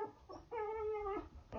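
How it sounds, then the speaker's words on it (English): A dog outdoors gives a few short, whiny barks and yelps, one drawn-out, heard moderately close and with no voices over them. "He could hear a dog barking outside."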